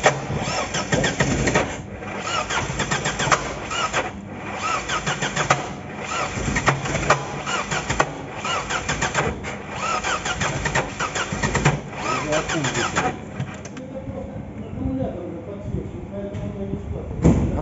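An Opel Omega car engine cranks and catches, then runs on with a steady mid-pitched idle. Nearby voices talk over much of it and a door-like thud is heard.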